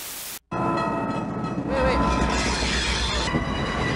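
Train cars roll along rail tracks with a loud, continuous rumble and a faint high squeal above it, heard up close after a brief cutoff at the start.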